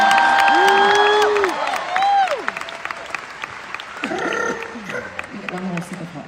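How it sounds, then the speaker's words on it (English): A live concert audience at a residency show bursts into loud applause and cheering, with sweeping whoops and shouts rising over steady clapping that eases off midway and then swells again. "please give a massive round of applause to Lauren"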